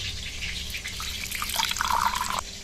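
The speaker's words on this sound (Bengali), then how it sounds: "আলাদা পাত্রে কিছুটা জল নিয়ে নেব।" Water poured from a tap or vessel into a separate bowl in a home kitchen, a close steady trickling splash that builds toward the end before stopping, with no talk.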